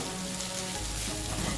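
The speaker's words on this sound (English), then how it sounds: "The stems of the spring onion go in next into the sizzling oil." Spring onion stems, onions and red chilli sizzle in hot oil in a wok for Malaysian cabbage and egg fried rice, a steady, close crackling hiss with no voices.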